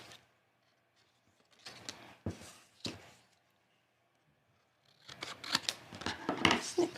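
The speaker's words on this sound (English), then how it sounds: "And then I'm going to snip this." Scissors snip through card stock for a handmade greeting card, giving a few crisp, close cuts separated by quiet pauses, then a quicker run of snips toward the end.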